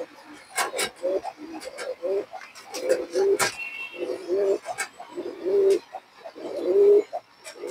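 Silver pigeons cooing close by in a loft, a series of soft, rhythmic throaty coos repeating every second or so, with a few sharp knocks and faint background voices.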